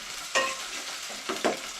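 Onions frying in a pan in a home kitchen while being stirred, a steady soft sizzle with a few brief scraping strokes, no voices.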